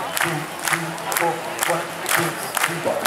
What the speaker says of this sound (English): right now what we want you to do is just to clap your hands